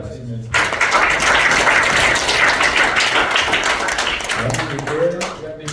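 A church congregation at a Sunday school worship service breaks into loud, sustained applause, dense clapping from many hands lasting several seconds, with speech at the start and end.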